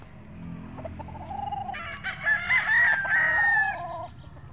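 Roosters crow loudly and nearby in a backyard chicken pen while hens cluck softly underneath, with a steady low rumble of background noise throughout.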